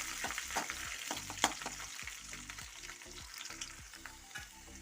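Garlic cloves sautéing in hot oil with dried red chilli and curry leaves for a lemon pickle, a steady close sizzle broken by frequent scraping stirs of a spoon against the pan.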